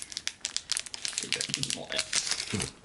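Close, crinkly crackling of a foil Pokémon Darkness Ablaze booster pack being cut with scissors, a run of sharp rustles and snips.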